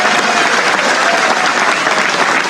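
Loud, dense crowd applause at an outdoor political rally, steady and continuous clapping from a large gathering with no break.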